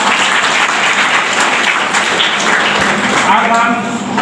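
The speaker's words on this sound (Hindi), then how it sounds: "जोरदार तालियां।" A gathered audience at a welcome assembly breaks into loud, continuous applause that holds steady throughout and eases slightly at the close.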